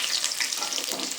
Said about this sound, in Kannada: ಈರುಳ್ಳಿ ಟ್ರಾನ್ಸ್ಪರೆಂಟ್ ಆಗೋವರೆಗೂ ನಾವು ಇದನ್ನು ಫ್ರೈ ಮಾಡ್ಕೋಬೇಕು